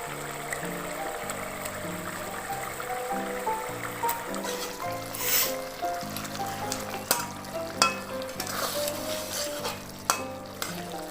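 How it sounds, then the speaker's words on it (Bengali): Fried paneer is stirred into masala in a pan, giving a soft continuous sizzle with spatula scrapes and clinks, while a background melody plays. "ভাজা পনির বলুন বা ধোকাই বলুন দিয়ে দিলাম।"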